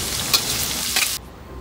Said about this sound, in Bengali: পেঁয়াজটা আমি হালকা করে ঘিয়ের মধ্যে ভেজে নিচ্ছি।